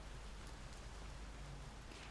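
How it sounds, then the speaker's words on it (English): Soft, steady rain patters against windows, a faint, even hiss that runs unbroken through the whole stretch with no voices over it. "We've got the soft pitter-patter of rain on the windows"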